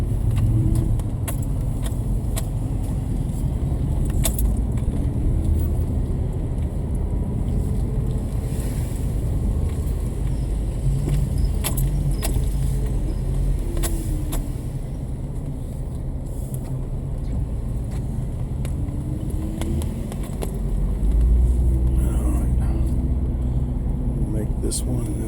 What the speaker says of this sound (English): I gotta get out of third gear. I'm in third gear right now.